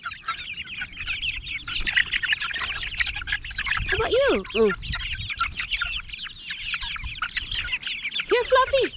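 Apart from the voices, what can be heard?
chickens clucking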